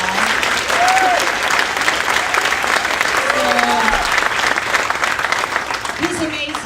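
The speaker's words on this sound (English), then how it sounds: "if we could give him a round of applause" A large audience at a school district State of the District event applauds the camera operator in steady, sustained clapping that fills the room, with a few brief voices and whoops rising over it.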